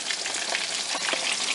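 Pieces of battered fish fry in a pan of hot oil, a steady close sizzle with soft crackles and no voices.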